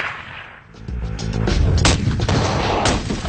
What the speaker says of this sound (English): The 416 is ideal for the longest of long-range shots.